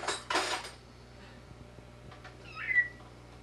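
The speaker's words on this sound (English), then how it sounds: "This is Dusty checking out the silverware drawer" A cat rummages in a kitchen silverware drawer, with a burst of clinking cutlery, scattered small taps and knocks, then a short meow near the end.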